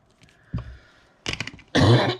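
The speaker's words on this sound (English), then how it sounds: "oh dear, excuse my coughing." A woman coughs and clears her throat in a few short bursts at close range, a throaty rasp followed by harsher, louder coughs.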